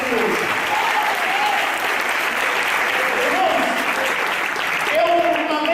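A church congregation breaks into dense, sustained applause that fills the room, with voices and a few calls scattered through the clapping.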